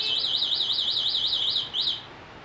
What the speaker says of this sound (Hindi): अलार्म एक्टिव होता है और ये अलार्म इसका बजता है इस टाइप का